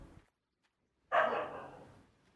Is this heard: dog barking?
yes